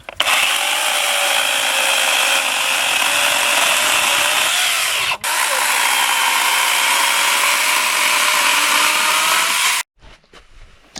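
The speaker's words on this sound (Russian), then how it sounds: "Это я понимаю, поставили новую пилочку." Chainsaw with a newly fitted saw chain running at high revs, loud and close, in a sustained whine with a brief dip midway before cutting off abruptly near the end.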